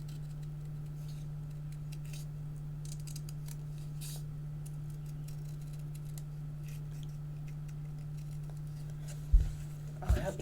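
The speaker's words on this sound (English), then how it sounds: "fussy cut them out" Paper sketch card pieces being fussy cut with scissors, soft snipping and rustle under a steady low hum, with a couple of louder knocks near the end.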